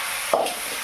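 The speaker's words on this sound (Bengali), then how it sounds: "নেড়ে চেড়ে নিয়ে ব্রাহ্মী শাককে ওর সাথে দিয়ে দিলাম" Brahmi greens (Bacopa) are turned over in a pan with a single brief scraping stir against a soft, steady sizzle.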